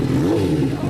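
A motorcycle engine revs briefly through its exhaust muffler, a close, rough mechanical roar lasting about a second among Kawasaki and Honda big bikes.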